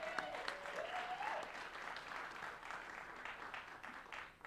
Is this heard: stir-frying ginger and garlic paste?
no